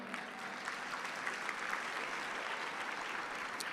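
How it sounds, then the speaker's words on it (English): Quiet, steady applause from a live auction crowd as model Renee comes out, soft distant clapping that stays even throughout. "Everybody, please round of applause for Renee."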